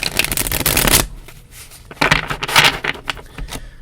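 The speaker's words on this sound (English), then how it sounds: "So you take them in your hands and shuffle." Tarot cards are shuffled by hand in close, crisp riffling bursts: one long run, a brief pause, then several shorter flurries.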